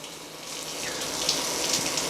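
A USB-charged portable bidet (lota) sprays water in a steady hissing stream, close and fairly loud, with small splashy fluctuations and no voices.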